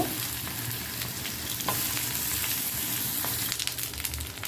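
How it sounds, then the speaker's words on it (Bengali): Sliced potatoes frying in hot oil with tomatoes and onion give a steady, dense sizzle with a few small pops, close and continuous, with no talking. "এটা আমি ভালো করে একটু ভেজে নিব"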